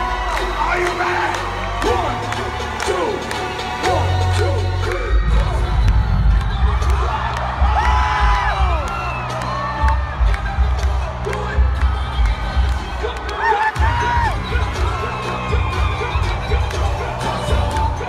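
A big concert crowd at a show in New York cheers during a dance-off, a dense, loud roar of shouts, whoops and screams that continues under steady music throughout.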